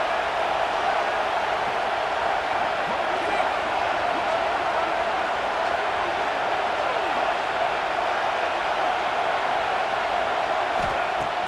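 A dense, steady roar from a packed stadium crowd in EA Sports College Football 26 holds at an even, loud level throughout with no pauses.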